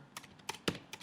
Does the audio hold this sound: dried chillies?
no